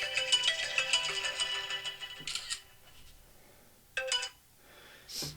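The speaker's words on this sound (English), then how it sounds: "sorry about the phone there" A telephone rings with a bright electronic warbling tone, a long burst followed by two shorter repeats separated by quiet gaps, fairly close and without speech over it.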